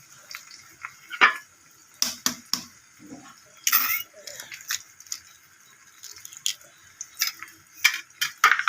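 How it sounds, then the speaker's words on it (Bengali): An egg is cracked over fish fillets topped with fried onions for a fish Mughlai paratha, heard as scattered close clicks, taps and wet drips of shell and utensils, with quiet gaps between. "একটা ডিম ভেঙে ওর উপরে দিয়ে দেবো।"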